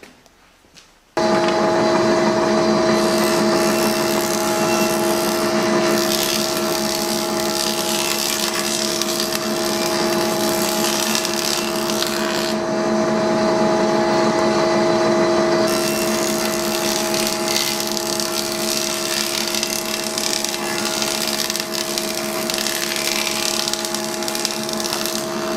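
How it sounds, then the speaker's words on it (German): Power planer running continuously on wood edges in a homemade bandsaw build, a loud steady machine whine with strong tonal hum that starts abruptly and holds for the full length, no talk. "können wir unsere Kanten hobeln"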